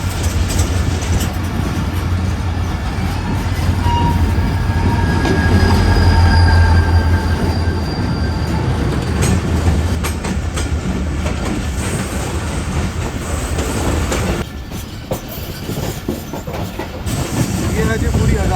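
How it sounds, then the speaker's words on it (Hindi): A freight train rolls past nearby as the Hazara Express approaches Rohri Junction, with a loud continuous rumble of wheels on rails, rhythmic clatter and occasional high squeals, briefly easing near the end. "सामने एक एनएलसी के साथ फ्रेट ट्रेन आप निकलती हुई देख सकते"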